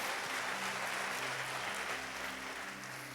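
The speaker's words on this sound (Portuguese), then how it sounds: "Pode dar uma salva de palmas forte." Applause from a church congregation, a dense steady clapping wash that fills the space and tapers slightly toward the end, with a low sustained tone underneath.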